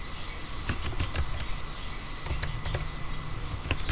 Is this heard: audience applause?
no